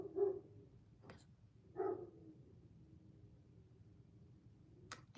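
A dog barks twice, a few seconds apart, in short muffled woofs that sound somewhat distant or behind a wall, over a quiet low room hum with faint knocks.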